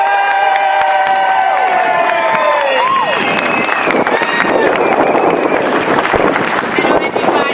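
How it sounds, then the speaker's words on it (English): Crowd at a rally against in-state tuition with Governor Chafee, loud cheering and applause with whoops and shouts, dense and close, swelling throughout as voices call out over it. "Give a big round of applause."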